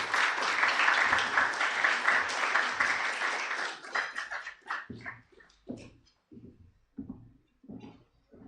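A conference audience at an East African tax breakfast in Uganda breaks into dense, loud applause lasting about four seconds, then thins into scattered separate claps that fade out.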